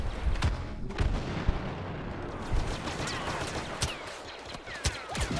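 Gunfire and explosions from a Star Wars shooter game, a steady dense stream of shots with scattered louder bangs and booms, fairly loud throughout with no talking.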